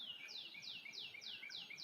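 A small bird calls with a faint, steady run of about six high, downslurred chirps repeated at an even pace against quiet outdoor background noise.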